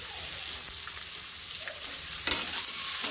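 Vegetables and onion fry steadily in a pan with a constant close sizzle and faint stirring scrapes; a small dollop of ginger-garlic paste goes in, bringing a brief sharper hiss, with no one talking.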